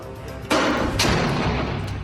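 An M203 grenade launcher mounted on an M4 rifle fires twice, two sharp loud booms about half a second apart, each trailing into a rumbling decay with no speech.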